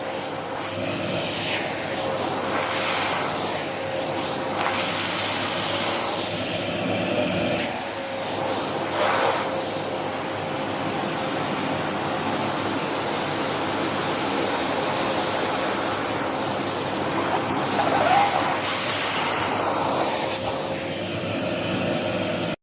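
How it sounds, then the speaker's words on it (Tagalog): A vacuum cleaner runs steadily over a bed, its motor drone holding a constant, fairly loud level with slight shifts in pitch as the nozzle moves across the bedding. "Yan, vacuum muna natin yung bed ko kasi matutulog ako naman."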